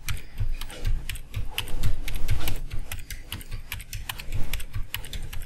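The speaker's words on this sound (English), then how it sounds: "I can keep typing." Rapid, irregular typing on a computer keyboard, close and crisp, with keys clicking in quick bursts and no talk.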